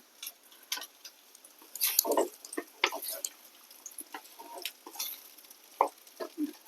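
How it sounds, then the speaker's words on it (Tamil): Cut gooseberries fry in oil for pickle with sparse crackling pops and spattering bursts, irregular and close, over a quiet background with soft clicks and stirring. "அந்த கட் பண்ணி வச்சிருந்த நெல்லிக்காயை எண்ணெயில் போட்டு நல்லா வறுக்கணும்"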